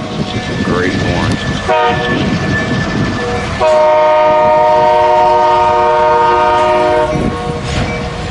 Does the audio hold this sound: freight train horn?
yes